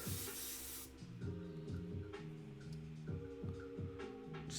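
An airbrush lets out a short, close hiss of spray, then stops, leaving low humming, throbbing tones that pulse in a repeating stepped pattern.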